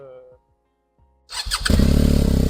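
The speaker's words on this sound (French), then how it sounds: "Le bruit du GS, c'est incroyable." A GS motorcycle with an aftermarket exhaust and no baffles cranks and fires up loudly after a short quiet gap, then settles into a deep, throbbing, pulsing engine note close by.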